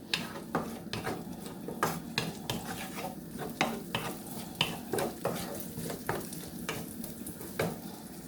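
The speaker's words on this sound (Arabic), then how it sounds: "صافي غادي نشحرو بحال هكا مع هاد البصيله هادي" Sliced mushrooms and onion sautéing in a pan, a constant sizzle broken by rhythmic stirring scrapes and taps of a utensil against the pan, close up and without talk.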